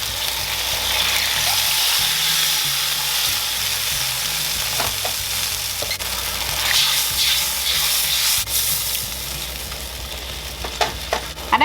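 Spicy soy sauce hits hot crawfish in a pan and sizzles loudly and steadily, with a constant bright hiss and a few scraping stirs near the end.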